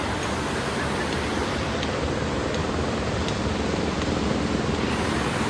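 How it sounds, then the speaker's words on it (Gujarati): A mountain river near Kedarnath rushes in a loud, continuous broadband roar of flowing water, steady and close, with no talk. "આ છે નદી."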